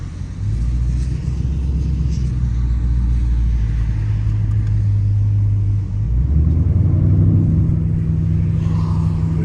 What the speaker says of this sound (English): See if it pops like when I let off the gas type beat.